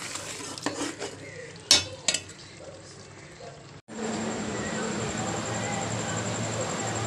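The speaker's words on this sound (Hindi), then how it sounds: "अब मैं आलू डालने लगी हूँ इसमें" Potatoes tipped into a pot of chicken and peas, with a few clanks of a utensil against the pot, then a steady loud sizzle as everything frying together is stirred.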